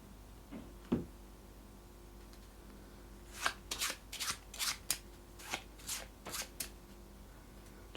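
A small stack of cards from the Horizon Zero Dawn board game being shuffled by hand, a couple of soft taps followed by a quick series of crisp riffling bursts, close and fairly quiet.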